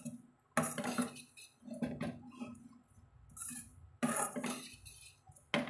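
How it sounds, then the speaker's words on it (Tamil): Chilli parotta tossed with masala in a pan, where a spatula clanks against the metal in sharp, spaced bursts with quieter shuffling between them. "எல்லா இடத்துலையும் மசாலா படுபடி கலந்து விட்டுக்கலாங்க"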